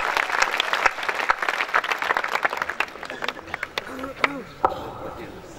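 A crowd at a Hindi kavi sammelan, a night poetry gathering, greets a poet with dense, lively applause that gradually thins into scattered claps, while a voice starts speaking under the last few.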